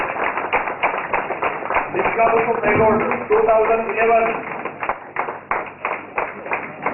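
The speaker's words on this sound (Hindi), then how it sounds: "आप तालियों का गड़गड़ाहट चालू रखिए" Steady applause from an audience at an award ceremony honouring Limca Book of Records achievers, rhythmic clapping running throughout beneath a voice speaking over a muffled, narrow-band sound system.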